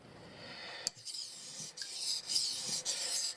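A Mora knife blade is drawn across a Japanese whetstone in repeated raspy, hissing strokes, close and fairly quiet, following a single sharp tap near the start.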